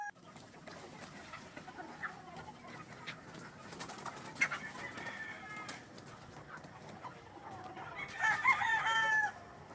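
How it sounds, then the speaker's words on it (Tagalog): Chickens at a game farm in a noisy commotion as feed is brought out, with clucking and a crowing rooster near the end over a busy outdoor background. "Alas 4 na kasi nagkakagulo na naman ang mga manok dahil gutom na, si Richard naman ay naghahalo na"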